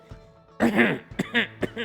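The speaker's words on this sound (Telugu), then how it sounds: "అని దగ్గుతాడు గట్టిగా ఒకసారి" A storyteller gives a single loud, forceful cough, broken into a few harsh bursts over about a second, performed alone with no other talk around it.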